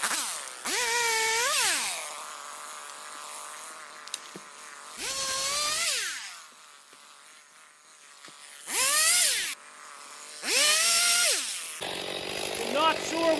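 A chainsaw trims trees during selective hand harvesting in woodland, revving in four loud bursts that climb and fall in pitch, with quieter gaps between them and a different buzzing tool sound at the end.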